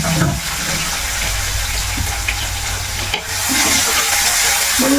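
Four chopped garlic cloves and four shallots fry in a pan for a buttermilk curry, a continuous close sizzle with spatula stirring scrapes; after a brief dip the sizzle swells louder and brighter, and no one speaks.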